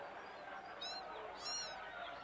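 Two short, high meows from Miss Cat, the cat in the video game Amanda the Adventurer 2. The cat is stalking birds over a steady background hum, and the second meow is a little louder than the first.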